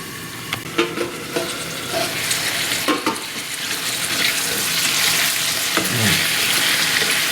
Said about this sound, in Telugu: పసుపు వేసిన తర్వాత బాగా కలిపి ఇది బాగా ఆయిల్లో మగ్గడానికి మనం మూత పెట్టుకోవాలి